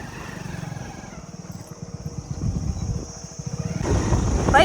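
Motorcycle riding along a bumpy rural road, with a steady close engine chug that grows louder and rougher toward the end amid wind rumble.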